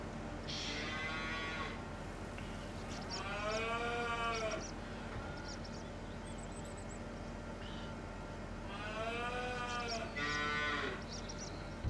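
Cows moo on a winter farm in Farming Simulator 25: two long, drawn-out lowing calls about six seconds apart, each rising and falling, over a faint steady background hum.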